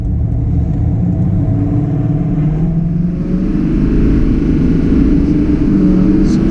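Duramax LML diesel pickup truck with its emissions equipment deleted accelerating from around 60 mph, a steady loud low engine rumble and drone heard from inside the cab, building slightly toward the end.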